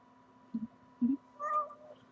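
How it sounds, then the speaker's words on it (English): A pet cat meows indoors, two short close calls followed by a longer, rising meow, clear against a quiet room with a faint steady hum. "I'm getting my cat. This is my cat, guys."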